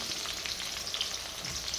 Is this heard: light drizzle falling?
no